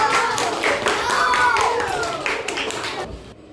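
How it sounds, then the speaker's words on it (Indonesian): An audience claps for group 2 at a school language competition, a short burst of applause lasting a few seconds under a voice, fading out at the end. "Kasih tepuk tangannya dong buat kelompok 2."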